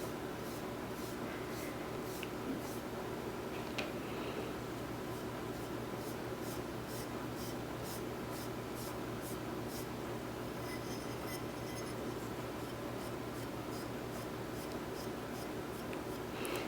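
A brush spreads a thin second coat of chalkboard paint horizontally across a coaster, giving a soft, steady scratchy rubbing that runs on continuously and quietly with no talking.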